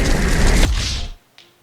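A loud, close explosion bursts out with a heavy roar, then fades over about a second before a brief faint tail.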